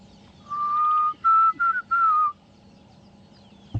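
A person whistles in imitation of a Diederik cuckoo, a clear high-pitched call of one long note followed by three shorter rising phrases over quiet outdoor background.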